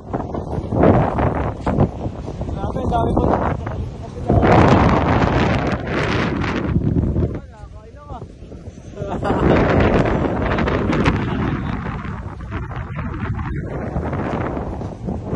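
Strong wind buffets the microphone in heavy, roaring gusts near a windmill, with people talking and exclaiming underneath.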